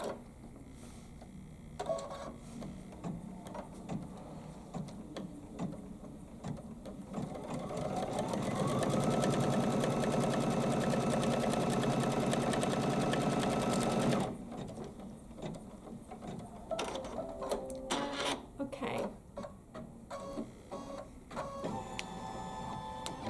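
An embroidery sewing machine tacks fabric down against a seam line in a quilting project. Its rapid, steady whirring runs loud and unbroken for several seconds in the middle, framed by quieter handling clatter before and after.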